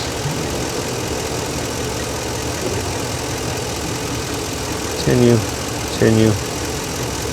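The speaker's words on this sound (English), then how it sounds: "I put it in gear. It's nice and smooth. And I want to bring the RPM up." A car engine runs steadily in gear during diagnosis of shaking under acceleration, a continuous mid-level hum throughout with a voice briefly speaking near the end.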